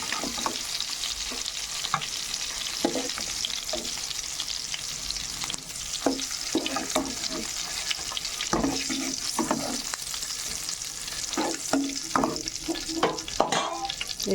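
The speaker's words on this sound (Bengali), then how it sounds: "এই গরম তেলে আমি একটা শুকনো লঙ্কা ছিঁড়ে দিচ্ছি" Dried red chili torn into hot oil in a home kitchen after frying eggs for an egg curry, sizzling in a steady close crackle with intermittent stirring and scraping knocks throughout.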